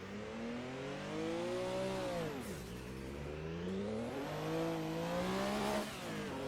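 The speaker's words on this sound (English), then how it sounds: "Right, so now my beloved Porsche 962" Porsche 962 race car engine in a racing simulator game, driven in full manual with pedals, whining steadily as it revs up, drops sharply on a downshift, then climbs again through the gears, loud and continuous with no talking.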